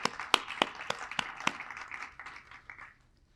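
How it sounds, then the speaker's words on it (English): Scattered applause from a small audience at a nursing presentation on virtual care at Barnes Jewish Hospital: a few sharp hand claps standing out in a soft patter that thins and fades over about three seconds. "So I want to give you an applaud too"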